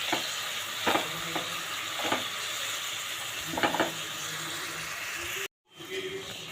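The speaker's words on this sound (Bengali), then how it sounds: "তো এবার পেঁয়াজটা একটু ভাজা ভাজা করব" Onions frying in a pan for a home-cooked dish, giving a steady broadband sizzle with a few scraping stirs, and a brief dropout near the end before the sizzle returns.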